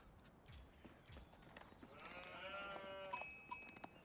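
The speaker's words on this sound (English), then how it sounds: "Yep, I can hear the sheep." Sheep bleat at the start of an Age of Empires 4 match, several wavering bleats overlapping over a soft ambient bed of clinks and rustle, no talk.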